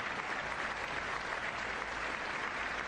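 Audience at the State of the Union address applauding, a continuous wash of clapping from a large crowd in a big hall, heard evenly and somewhat distant.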